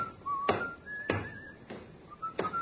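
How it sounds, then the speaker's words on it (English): A man whistles a thin, wavering tune, punctuated by a few dull knocks at regular intervals, fairly quiet. "that fellow there, whistling"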